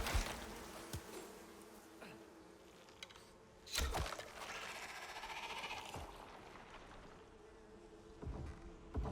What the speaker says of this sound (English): There's more lava bees.